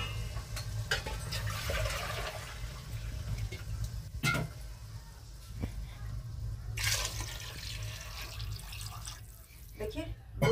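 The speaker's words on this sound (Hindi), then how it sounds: "2 लीटर पानी हमने ऐड कर दिया है" About two liters of water poured into a pot of vegetable khichdi on the stove, a steady rushing splash that runs through most of the clip with a few brief clatters.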